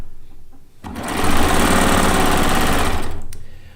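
A sewing machine stitching quilt pieces runs in a steady, fast, loud mechanical whir for over two seconds, starting up and then stopping.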